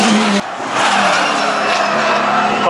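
Cars driving on a race track at the Sirius resort in Sochi, a loud engine roaring and accelerating after a short dip, staying close and continuous.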